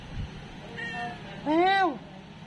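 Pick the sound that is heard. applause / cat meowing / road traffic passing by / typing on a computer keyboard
cat meowing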